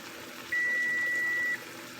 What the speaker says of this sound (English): That's my timer going off.